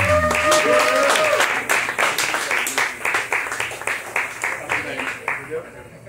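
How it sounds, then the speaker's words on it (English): Audience at a stand-up comedy show applauds as a comedian comes to the stage, loud dense clapping that swells at first and then slowly thins and fades, with no talk over it. "Please give a round of applause for Julian Encinas, everybody."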